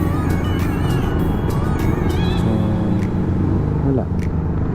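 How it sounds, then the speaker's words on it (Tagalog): Heavy road traffic of cars and motorcycles on a national highway, a loud continuous low rumble of engines close by, with some faint honks and a voice talking over it. "Sobrang traffic."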